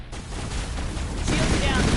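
Continuous game gunfire and combat noise from a firefight in Mass Effect Legendary Edition, a dense, loud wash of shots and blasts that swells louder in the second half.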